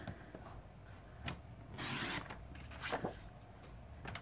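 Paper being cut on a paper trimmer for a card project, giving faint soft scraping and sliding rubs with a brief louder swish partway through, close by and quiet, with no talk.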